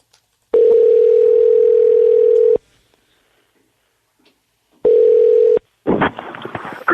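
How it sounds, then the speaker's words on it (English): Landline telephone dial tone, a loud steady hum for about two seconds, then silence, a second short burst of tone, and finally quick busy dialing or line noise as a call is placed. "let's get him on the phone"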